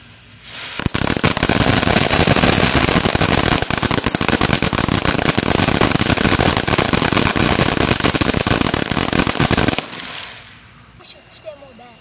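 Fourth of July fireworks crackle and pop in a dense, loud, nearby barrage lasting about nine seconds, then cut off abruptly, leaving faint scattered sounds.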